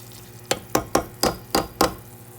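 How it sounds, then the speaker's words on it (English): A browning roux-style mixture stirred in olive oil for turkey wing gravy, six evenly spaced scraping strokes against the pan over a low background, with no voices. "just keep stirring that until we get it the brown color that we want"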